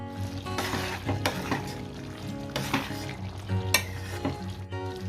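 Capsicum sizzling in a pan for masala pasta, a steady frying hiss with a utensil stirring and scraping against the pan in repeated close strokes.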